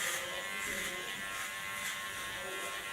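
Electric hair clipper buzzing steadily at close range throughout a pixie haircut, held level and continuous with no talk.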